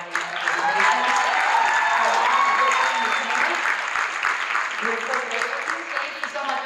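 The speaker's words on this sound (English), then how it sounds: "give them a round of applause" Sustained applause from a convention panel audience, steady clapping with scattered cheers and whistles, loud and continuous throughout.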